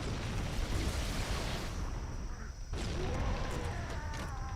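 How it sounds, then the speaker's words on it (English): Dense, rumbling explosions in a Halo video game, a continuous roar of blasts with a brief dip midway before more bursts pile on, fairly quiet overall. "So much explosion."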